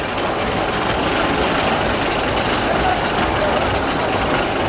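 A steady rumbling roar of a coaster train running on its track at Idlewild theme park, continuous and fairly loud, with no pauses or voices.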